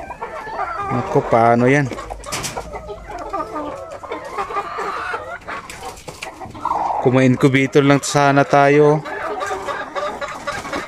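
Backyard chickens cluck loudly and close by, with long bursts of clucking, while a person talks in between and over them.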